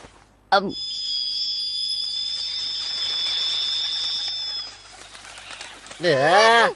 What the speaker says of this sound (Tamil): இதெல்லாம் ஒரு வித்தியாசமான பறவைங்க.